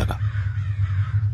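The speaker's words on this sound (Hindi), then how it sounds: "एक पेड़ पर कई सारे कौवे काए काए करते हुए मंडरा रहे थे।" Several crows caw harshly over a steady low hum, their calls overlapping in a continuous, nearby chorus.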